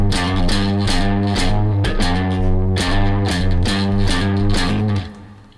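A heavily distorted guitar plays a 12.5-beat riff, loud and close, with low, chugging palm-muted notes broken by sharp rhythmic accents, alone with no talking.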